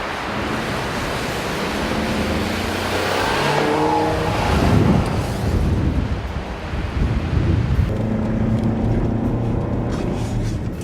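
A 2015 Mercedes-Benz C300 and a Nissan Rogue drag race up an icy mountain hill, their engines a loud, sustained roar mixed with heavy wind buffeting and rushing noise throughout.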